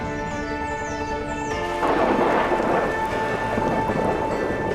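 Heavy rain pours steadily in a Colombian cloud forest during a thunderstorm, with a deep roll of thunder swelling in after a moment and continuing under the loud, close downpour.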